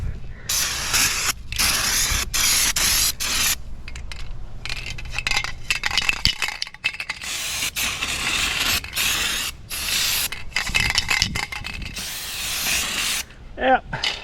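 Rust-Oleum Turbo spray paint hissing from an aerosol can onto a 16-foot custom car trailer, in long bursts broken by short pauses and rattling, close and fairly loud, with no talk.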